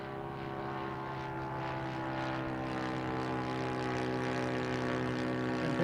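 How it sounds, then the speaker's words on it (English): A propeller-driven aerobatic airplane rolling in a wide circle overhead, its engine a steady droning hum with strong harmonic tones that swells slightly louder over several seconds, heard alone without talk. "We're doing a big circle out here, but the airplane is just rolling, right?"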